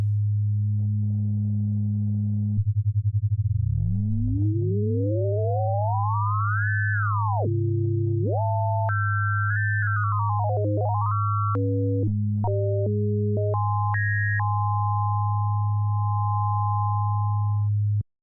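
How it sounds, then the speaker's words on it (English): Electronic tones from a VPS Avenger 2 synthesizer oscillator with amplitude modulation over a steady low hum: a buzzy tone, then rising and falling sweeps, followed by stepped notes held at different pitches. "So let's take a little listen to this as well."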